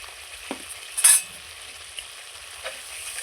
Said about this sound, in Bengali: মশলাটা খুব সুন্দর কষিয়ে নিচ্ছি